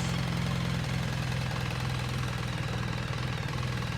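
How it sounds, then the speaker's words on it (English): A BMW R1300GS motorcycle engine runs close by with a steady, throbbing idle-like pulse and a loud, even drone throughout, no voices. "When you rev it, the whole thing moves."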